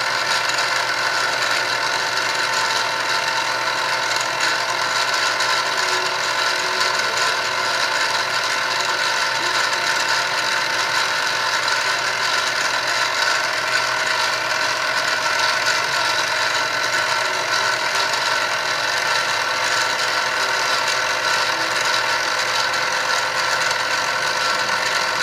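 A milling machine cutting a custom spacer plate on a red engine block at a steady feed, a continuous loud whirring machining drone with a constant mechanical tone and no breaks.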